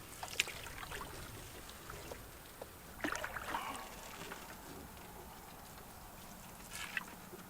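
A canoe is paddled across Devils Lake, with soft water trickles and a few splashy paddle strokes standing out over quiet ambience.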